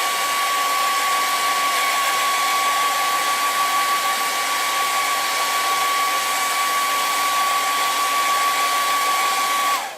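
Hair dryer blowing steadily over a receipt transfer being dried for home decor, a constant loud whirring hum with a steady whine that runs the full length before cutting off at the end.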